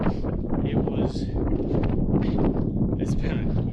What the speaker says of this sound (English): this wind is pushing at my back right now